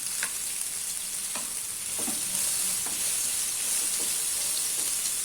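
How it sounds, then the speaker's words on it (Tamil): Sliced onions sautéing in a pan for onion masala, a steady close hiss of frying with a few soft stirring taps, no one talking over it. "இப்போ இந்த வெங்காயத்தை போட்டு வதக்கிக்கலாம்."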